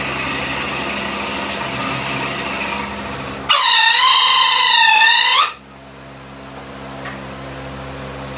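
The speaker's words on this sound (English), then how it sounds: "make a shallow hole, just to the depth of the drill bit." A drill bit bores a shallow hole in dry timber during a woodturning session, giving a loud, wavering high-pitched squeal of friction that lasts about two seconds over steady machine noise, then cuts off abruptly.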